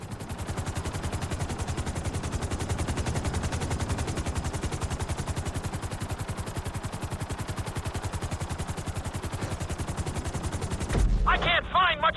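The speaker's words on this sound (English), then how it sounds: "Bring the helicopter down gently onto the helipad." A loud, continuous rapid thudding of helicopter rotor blades fills the whole stretch, steady and close, as a helicopter lands on a helipad in Grand Theft Auto V, ending with a brief burst of electronic game tones.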